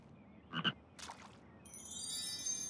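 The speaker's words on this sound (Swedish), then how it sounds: "Ja, en grön hoppig groda." Cartoon frog croaking in a children's backyard play show, two quick croaks followed by a brighter burst, with a high chiming music layer entering toward the end.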